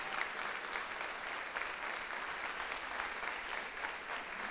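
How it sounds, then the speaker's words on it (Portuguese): A church congregation applauding God during a sermon, sustained broad clapping from many people, fairly distant and even in level throughout. "Vamos aplaudir a esse Deus tão extraordinário."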